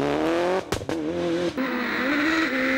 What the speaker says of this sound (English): Gary Jennings continues to exert the maximum from the nimble Peugeot